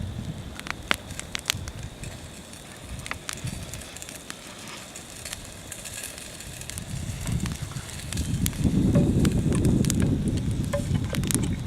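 A hot campfire in the woods burns under a cooking pot of thawing meat, with sharp scattered crackles and pops close by, then a louder rushing, windy roar building near the end.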